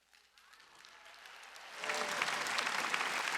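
A church congregation applauding at a Sunday worship service, the clapping starting faint and swelling into full, dense applause from the whole room.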